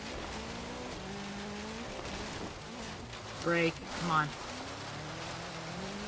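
A 2014 M-Sport Bentley Continental GT3 race car climbing a hill-climb course, its engine droning and rising through gears with sharp shift-like bursts, while the driver speaks briefly over the noise.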